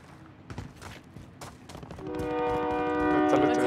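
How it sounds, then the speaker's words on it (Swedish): A train rolls past in Call of Duty: Warzone, its rumble building as a sustained horn blares out loud and near over the last stretch, with scattered game noises before it. "du blir påkörd av tåget också"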